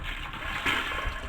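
Water running through a Luxe bidet nozzle, a soft, steady hiss of flowing water with a brief slight surge partway through, fairly quiet and close.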